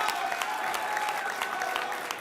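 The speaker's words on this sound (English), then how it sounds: "You should applaud that." A crowd applauds during a speech by Governor Cuomo in November 2014. The clapping is brisk and even, filling the whole moment as a dense, moderately loud wash of many hands with no talk over it.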